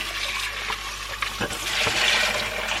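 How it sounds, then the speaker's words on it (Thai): Water is poured out outdoors in a steady splashing gush that swells toward the end, close by, with a few light knocks. "เทเทน้ำทิ้งข้างนอกเลยนะ"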